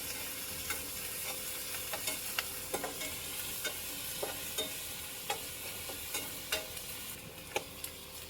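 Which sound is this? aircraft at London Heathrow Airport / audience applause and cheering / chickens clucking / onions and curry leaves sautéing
onions and curry leaves sautéing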